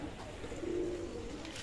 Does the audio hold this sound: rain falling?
no